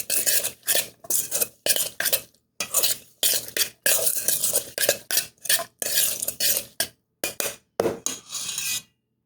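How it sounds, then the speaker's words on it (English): Carrot and radish pieces are mixed with kimchi paste in a bowl, producing a steady series of wet scraping, rubbing and stirring strokes with brief pauses, close and moderately loud, with no talking. "Gonna take my root vegetables and dump them in. Keep mixing."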